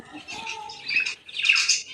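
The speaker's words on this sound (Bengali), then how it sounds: "ককটেলটা খেতে চলে এসেছে দেখেছো" A cockatiel gives bright, high chirping calls in short bursts, growing louder and busier toward the end, close by with no talk.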